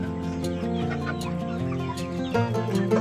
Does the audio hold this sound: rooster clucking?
yes